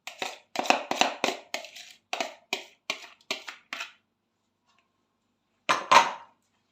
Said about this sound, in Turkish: şöyle iki kaşık yardımıyla karıştırıyorum arkadaşlar